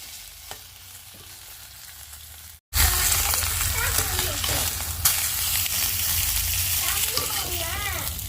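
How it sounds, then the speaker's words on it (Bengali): Fish sizzles loudly in hot oil in a round wok, crackling continuously after a brief pause, with occasional stirring scrapes. "আর একটা চুলার মধ্যে মাছ ভাজা বসিয়ে দিলাম"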